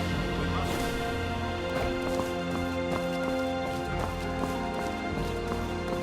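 Horse hooves clip-clopping steadily on jade stone paths in a video game, a regular trotting rhythm over a continuous musical backdrop, fairly close and moderate in level.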